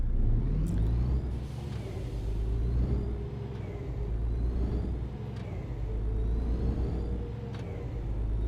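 A truck's air parking brake releases with short hissing bursts over a steady, loud diesel idle rumble, in the truck-driving game On The Road while hauling bread to Hanover.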